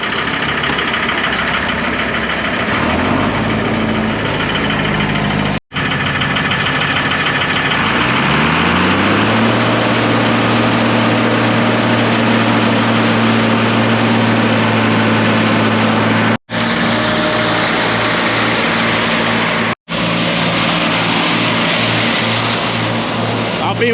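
A tractor's PTO drives a silo unloader: a loud, steady engine drone that rises in pitch and settles into a constant hum as the drive engages, with brief cut-outs.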